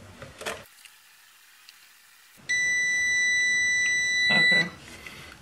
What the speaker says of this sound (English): So that's the second beep